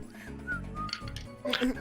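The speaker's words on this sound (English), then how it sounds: "kind of whistles." A person whistles a few short rising notes during a tabletop role-playing game session, faint and brief, with talking around and over it.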